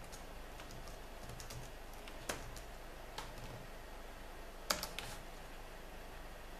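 Faint, sparse keystrokes on a computer keyboard with a few sharper clicks, as commands are typed during an Arch Linux install in a quiet room.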